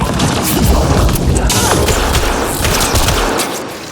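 Dense, loud gunfire from the video game Mass Effect Andromeda, with rapid overlapping shots and booming impacts that run almost without a break before easing off at the end.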